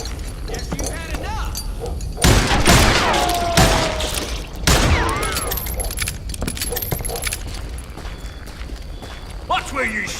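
Gunfire in the video game Call of Juarez Gunslinger: several loud sharp shots and bursts crack out amid jangling metallic clatter, ricochet whines and game effects, with voices talking over the action.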